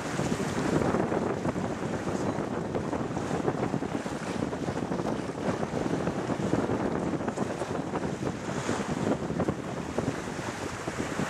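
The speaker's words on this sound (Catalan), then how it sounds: "Bueno, estem navegant." A sailboat sails close-hauled and heeled over off Mataró, with steady strong wind rush on the microphone and water washing along the hull in a constant, loud roar.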